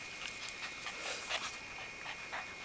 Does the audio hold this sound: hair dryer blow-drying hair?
no